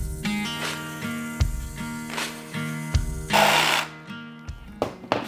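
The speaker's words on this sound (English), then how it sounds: "we have a jigsaw and we'll just jigsaw that off" A jigsaw cuts out fireplace pieces, its buzzing motor running in short repeated bursts with rhythmic blade chatter, close and loud, stopping and restarting with a brief rough rasp toward the end.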